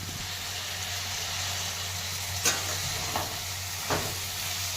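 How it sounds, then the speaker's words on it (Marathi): Fenugreek leaves frying in a pan with turmeric and homemade spice for Nilanga rice, a steady close sizzle with a few brief scraping stirs, no talking. "मेथी छान परतून घ्यायची."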